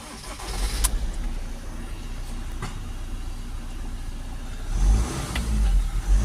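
A Ford Transit Custom 2.2 diesel van engine turns over and catches, idling roughly before revving up loudly near the end, close by with no talking.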